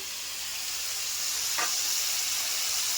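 A water-mixed paste of ground cumin, chilli powder and ginger paste hitting a hot pan, with a loud, steady broadband sizzle that swells slightly and holds, plus one brief tonal squeak midway.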